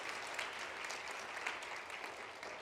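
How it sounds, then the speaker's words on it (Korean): Parents, families and teachers at a school graduation ceremony in a hall clap together, a soft, somewhat distant patter of applause holding steady for a few seconds. "우리 부모님과 가족 그리고 선생님들 우리 모두 함께 한 마음으로 감사와 격려의 박수 한번 올려드리면 좋을 것 같습니다."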